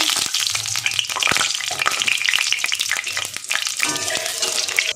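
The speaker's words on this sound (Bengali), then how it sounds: "1/2 চামচ গোটা জিরে ফোড়ন দেবো।" Whole cumin seeds crackle and sizzle in hot white oil in a kadai, a dense, steady spitting hiss with sharp pops throughout, close and loud with no talking.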